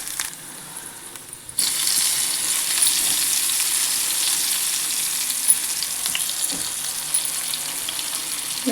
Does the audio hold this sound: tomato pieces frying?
yes